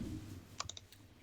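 Computer mouse clicks in a quiet room, three quick sharp clicks close together followed by a fainter fourth, crisp and near against a soft low hum.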